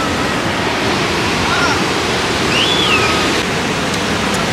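Ocean waves wash in close to a beach chair, making a loud, steady surf roar with wind buffeting the microphone and a few faint, high calls heard over the noise.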